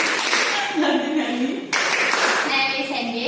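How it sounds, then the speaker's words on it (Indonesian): Group clapping game in a classroom, a concentration clap pattern with children and teacher, short bursts of clapping mixed with children's voices and speech, with a brief break midway. "Kita mulai. Tepuk konsentrasi."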